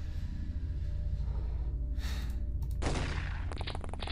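Reaction fire from The X-COM Files video game: a few sharp gunshot bursts cut through steady low background noise, the strongest coming near the end.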